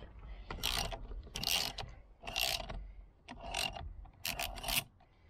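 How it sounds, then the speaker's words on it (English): Hand ratchet loosening a 19 mm nut on the steering wheel of a Nissan Navara D40, five distinct bursts of rapid clicking ratchet strokes in a steady rhythm, close and clear with no talk. "Take a ratchet, go on top and open it."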